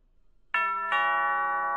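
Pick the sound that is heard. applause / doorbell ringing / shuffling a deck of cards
doorbell ringing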